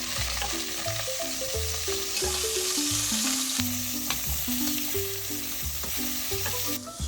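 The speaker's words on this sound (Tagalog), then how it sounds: "lagyan na natin yung sibuyas tsaka kamatis pagka mainit na sobra yung mantika" Onion and tomato sautéing in very hot oil make a steady, loud sizzle and crackle for the whole stretch, with a melodic tone running on top and no talking.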